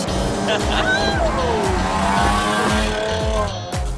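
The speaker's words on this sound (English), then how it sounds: "I heard the engine roar." A car engine roars loudly and steadily, its pitch rising and shifting as it revs, with a brief drop near the end.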